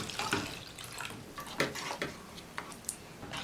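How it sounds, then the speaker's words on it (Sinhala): Coconut milk poured into a mung bean and rice drink, a soft liquid trickle with small splashes and a few faint clinks, quiet and close with no talking. "දැන් පොල් කිරි දාගන්නවා."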